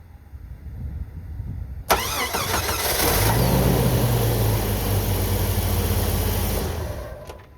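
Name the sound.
car engine cranking and starting during battery cranking test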